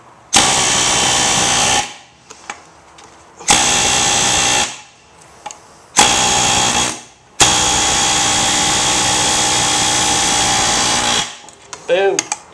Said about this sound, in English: show them a little air chisel action